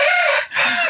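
A rooster crows loudly and close, a single harsh call lasting about a second.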